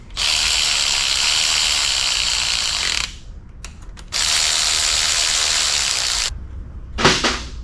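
A torque wrench ratchets on a bolt during an LS engine swap on a 1986 Chevrolet C20 Suburban, with two long, loud, steady bursts of rapid clicking separated by a short pause and a few brief clicks near the end.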